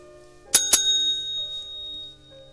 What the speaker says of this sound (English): Brought to you by the dinner bell.